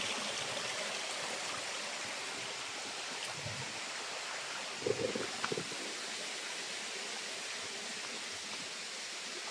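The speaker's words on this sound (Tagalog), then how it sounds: "Yung maliit na sapa. Yung mga agos." A small forest stream flows with a faint, steady wash of running water, continuous and distant-sounding, with a few soft knocks and rustles partway through.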